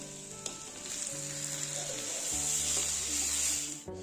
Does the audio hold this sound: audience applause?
no